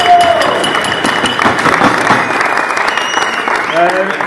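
An indoor audience applauds at a fire station reception, a loud, steady burst of clapping lasting several seconds, with a voice briefly heard at the start and again at the end.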